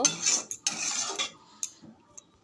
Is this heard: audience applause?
no